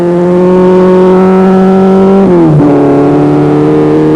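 A powerful Volkswagen rally car roars past at full throttle on a forest stage, a loud sustained engine note that drops sharply in pitch as it passes and then climbs again as it accelerates away.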